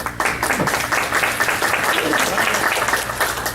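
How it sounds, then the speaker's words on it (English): An audience at a school board candidates forum applauds in a room, a dense, steady round of clapping that carries on throughout. "Hold the applause till they're all done, and then we can give one big one."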